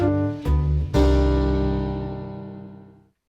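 A guitar plays a minor 1625 jazz line: two quick plucked notes, then a ringing chord that sustains and slowly fades to silence, heard alone.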